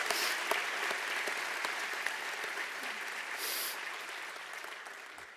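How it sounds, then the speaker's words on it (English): Audience at a basketball hall of fame induction ceremony applauds in honor of coach Pat Summitt, dense continuous clapping filling the room and slowly fading toward the end. "let's give her a round of applause"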